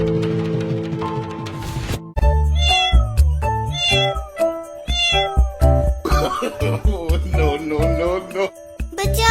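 A cat meows repeatedly, loud and close, in a string of drawn-out, wavering cries after an opening of sustained musical tones, with no talking over it.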